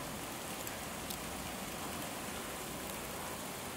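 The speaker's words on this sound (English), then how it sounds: "We're having nice freezing rain today." Freezing rain falls in a steady, faint patter on surfaces outdoors, an even hiss with a few slightly sharper drop ticks and no voices.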